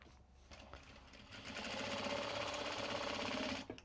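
Sewing machine running a straight stitch through Japanese fabric on a mini traveler sling bag, starting with a few slow stitches and then building to a fast, steady, close mechanical whir with rapid needle ticking for a few seconds before stopping.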